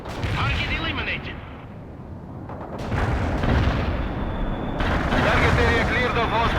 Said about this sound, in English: Artillery strike on our target now.